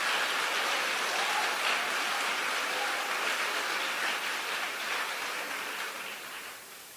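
A church congregation applauds, a dense, steady wash of many hands clapping together that holds for several seconds before slowly thinning toward the end.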